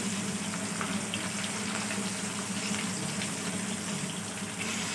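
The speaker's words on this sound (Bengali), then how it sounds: "একটু ভেজে নেবো আর একটু।" Pieces of hilsa fish frying in oil in a home kitchen, a continuous close hiss and sizzle with faint bubbling and no talk.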